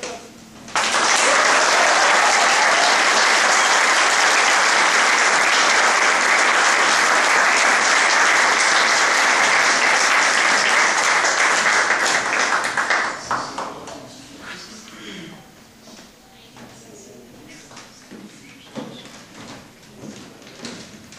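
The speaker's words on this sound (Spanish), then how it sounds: "para quien pido un fuerte aplauso" A large audience bursts into loud, sustained applause lasting about twelve seconds before it cuts away, leaving quieter room noise and scattered sounds.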